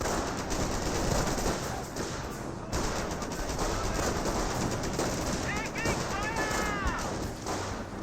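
Sustained rifle and machine-gun fire from a WWII infantry skirmish in Company of Heroes, dense rattling bursts crackling continuously at close range while a commentator talks over it.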